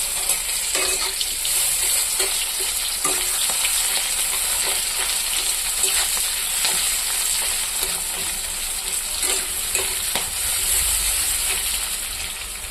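Onions fry in a pan with a loud, continuous hiss and crackle, faint clinks of stirring scattered through, and a low rumble near the end.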